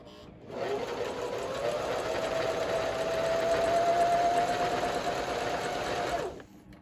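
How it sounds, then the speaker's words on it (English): A sewing machine stitches a straight line with blue Dual Duty thread, making a close, continuous mechanical whir whose pitch rises slightly and then stops abruptly, with no talking. "I'm just going to put my presser foot right beside the blue Dual Duty thread, and I'm just going to sew a straight line."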